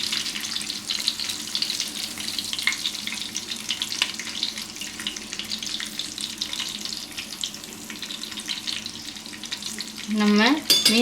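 Fish pieces for fish biryani fry in hot oil with a constant crackling sizzle, close and moderately loud, ending with a short clatter.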